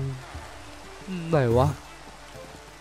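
Rain falls in the video game Minecraft as a steady soft hiss in the background, while someone speaks briefly over it.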